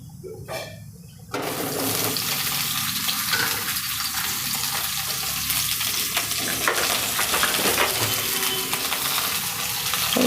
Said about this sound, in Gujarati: જીરું થોડુંક તતડી જાય ને પછી એમાં સરગવો નાખી દેવાનો